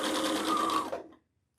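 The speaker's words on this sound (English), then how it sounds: "It's just very simple sewing at this stage." A sewing machine stitching fabric runs in one steady, close burst of fast mechanical whirring, slows briefly near the end and then stops, leaving silence.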